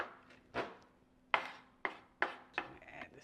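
A kitchen knife chops shrimp and crab on a board in a handful of separate, sharp knocks with short gaps between them, close and fairly quiet.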